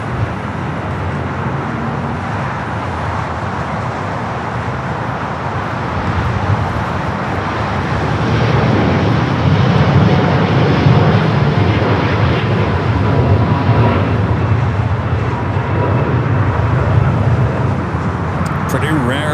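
Airliners roll and climb at LAX, including an ANA jet on a rare south side departure, making a loud, continuous jet engine roar that swells midway, with speech and radio chatter over it.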